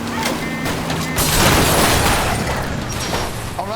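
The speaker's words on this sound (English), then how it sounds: "Was that an explosion?" A loud explosion bursts out during a car chase in the L.A. Noire video game, a sustained booming roar that swells through the middle and lingers in a dense, crackling rumble.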